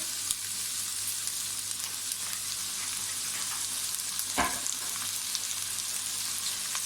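A pan of chicken BBQ rice frying steadily with a constant close sizzle, as vinegar goes in, marked by one brief burst of louder spluttering partway through, with no talk.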